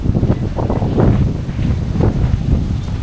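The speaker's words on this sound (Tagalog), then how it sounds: "Ang hangin." Strong wind gusting across a microphone on a beach at Malagundi Point in Lobo, Batangas, a continuous loud low rumble that swells and buffets with no clear talk.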